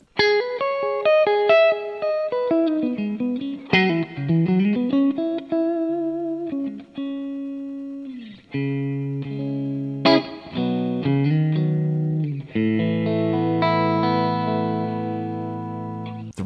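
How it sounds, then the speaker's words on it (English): A clean electric guitar through an IK Multimedia TONEX rig plays picked notes and chords with a spacious, slightly darkened reverb tail, each phrase ringing out and decaying smoothly between pauses. "reverb's going to create some nice space around your guitar tone so it doesn't feel as dry."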